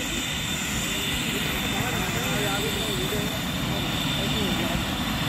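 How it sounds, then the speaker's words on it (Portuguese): A steady, loud helicopter engine drones throughout at an agricultural exhibition, with a constant whine and low rumble, heard nearby without a break. "Tem dois helicópteros aqui."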